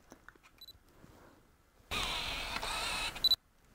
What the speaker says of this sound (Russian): механизма фокусировки при самой фокусировке